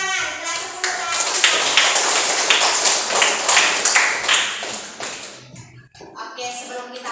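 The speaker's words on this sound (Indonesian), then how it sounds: "Tepuk tangan, kelas 10 hadir." A class of tenth-grade students clapping together in a classroom, a fast run of loud rhythmic claps for about five seconds, then a brief pause and a few more claps, with some voices mixed in.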